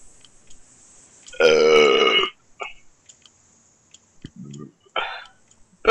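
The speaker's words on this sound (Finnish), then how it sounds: "Se on röyhtäilyä." A loud, long, croaking burp lasts nearly a second up close, followed by a few short throaty gulps and hiccup-like sounds, with scattered quiet clicks and breaths around it.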